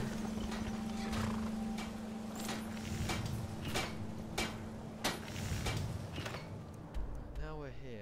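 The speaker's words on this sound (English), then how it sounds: "my horse should magically appear in front of me" Horse hooves clip-clop in a modded Skyrim game, a steady run of soft, evenly spaced thuds under a constant background hum, ending with a brief swooping tone.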